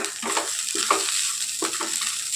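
Red poha fried rice being stir-fried in a pan, with a steady soft sizzle and several short scraping stirs from a spatula, close up and without talk.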